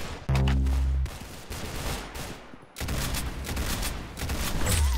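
Gunfire in the shooting game Arsenal: a loud, close burst of rapid shots, then a brief lull and more sustained firing with heavy low booms.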